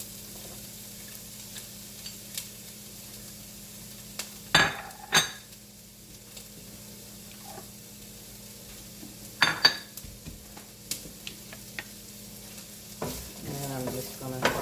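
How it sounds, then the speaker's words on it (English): Chopped onions drop into a pan for a homemade spaghetti sauce and sizzle softly while a utensil stirs them, with a few sharp scrapes and clacks against the pan, close and fairly quiet. "And I'm gonna add the onions into this."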